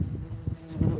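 Honeybees hum around an open beehive during an inspection, a low, dense, continuous buzz swelling slightly near the end of a brief moment.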